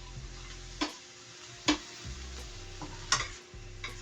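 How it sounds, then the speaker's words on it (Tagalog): Ground meat with onions and sliced okra being sautéed in a pan, with a few sharp utensil knocks and scrapes over a low, quiet sizzle and a faint background hum. "Igigisa po natin yung giniling sa may sibuyas."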